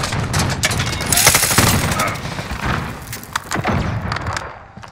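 Automatic sentry gun in a multiplayer shooter game fires sustained bursts of rapid gunfire mixed with thuds and booms across a busy battlefield, loud and dense throughout.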